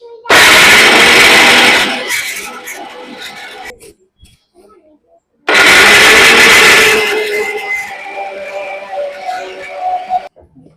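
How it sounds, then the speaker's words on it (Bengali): Biscuits ground to powder in a kitchen mixer grinder, two loud whirring bursts of several seconds each, the second fading into rattling as the motor winds down, with a quiet gap between. "এবার আমি অল্প অল্প করে দিয়ে মিক্সিতে গুঁড়ো করে নেব।"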